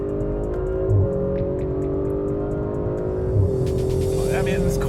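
A 2018 Audi RS 5 pulls hard after a paddle upshift into third, its engine droning steadily with rising pitch, loud and close inside the cabin, with a person talking over it.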